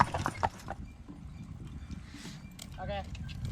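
A traffic-safe team of draft cross horses walks along, hooves clip-clopping in a steady rhythm, with a voice talking over them.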